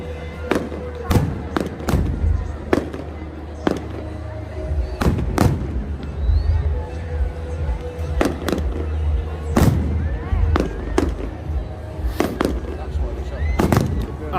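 Fireworks fired from Bournemouth pier during an airshow burst in repeated loud bangs at irregular intervals, echoing over a steady crowd murmur with people talking throughout.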